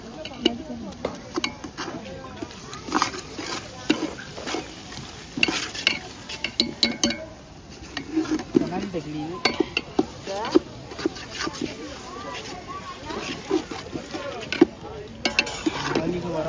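Ginger, garlic and chilli paste sizzling and frying in a pan, stirred repeatedly with a utensil scraping and clinking against the metal, close and busy, with occasional voices talking over it.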